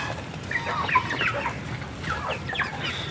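A Rhode Island Red hen clucks in short, irregular bursts, fairly close, over a steady farmyard background with a few higher chirps mixed in.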